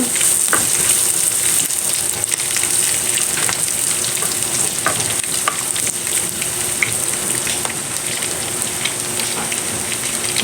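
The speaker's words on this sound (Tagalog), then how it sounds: "igisa na natin din ang ating bawang" Garlic sautéing in a pan for binagoongan pork and eggplant, a loud, dense, crackling sizzle that runs unbroken throughout, with light spattering pops scattered across it.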